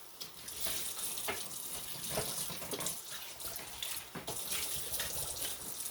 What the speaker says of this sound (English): So you guys get to watch me clean up my pot this time.